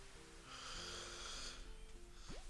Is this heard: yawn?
yes